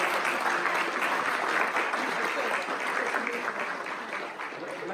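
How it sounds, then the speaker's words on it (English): A crowd applauds the event committee in a long, steady round of clapping that stays loud and dense throughout, with a few voices faintly mixed in. "Let's have a round of applause for Sandra Silverian and her committee for planning today's event"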